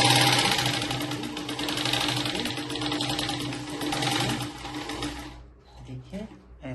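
A sewing machine runs steadily, stitching the sleeve of a blouse, with a dense continuous whirring buzz for about five seconds before it stops and someone speaks quietly.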